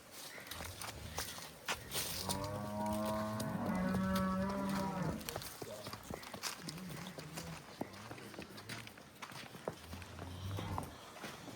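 A cross-breed heifer gives one long, loud moo up close, with footsteps and shuffling of farm animals around it and brief voices in the background.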